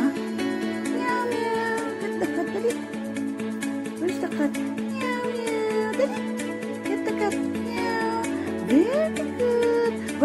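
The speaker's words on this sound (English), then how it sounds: "Meow, meow. Where's the cat?" A cat meows repeatedly, with several drawn-out, wavering meows spread across the stretch over a steady tonal background, close and fairly loud.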